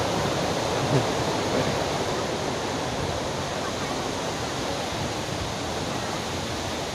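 The Tat Kuang Si waterfall near Luang Prabang, Laos, roars in a steady, dense wash of falling water that fills the scene from nearby and stays unbroken throughout.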